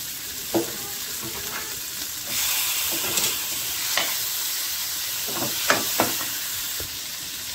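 Onions, dried and green chillies, and tomato fry and get stirred in a pan, a steady close sizzle that swells partway through, broken by occasional spatula scrapes and taps.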